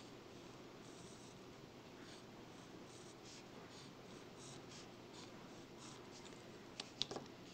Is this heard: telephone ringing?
no